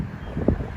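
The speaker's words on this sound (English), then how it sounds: "Ma'am, it's really windy and I can barely hear you." Wind rumbles faintly across an outdoor property, a low steady buffeting with a brief gust swell midway, no voices over it.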